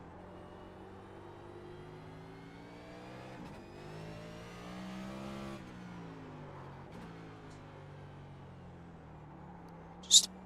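A NextGen race car in the iRacing game accelerates hard through its gears on the COTA West circuit, its engine note rising, dropping at each shift and climbing again, loud and continuous, with a brief sharp click near the end.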